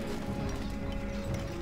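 Horse hooves in the Stronghold 2 video game, faint rhythmic clip-clop over a steady tonal game hum, quiet and continuous throughout.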